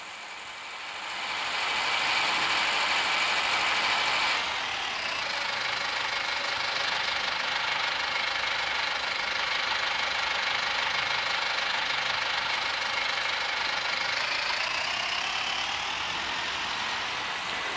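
A tractor engine in Farming Simulator 20 drones continuously, rising in loudness over the first two seconds, then shifting to a lower, steady running tone with a faint whine before easing slightly near the end; no speech.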